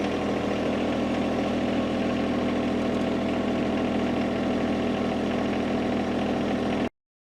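A tractor engine idles steadily and loudly up close while compost is loaded into a raised garden bed, a continuous low rumble with no pauses that cuts off abruptly at the end.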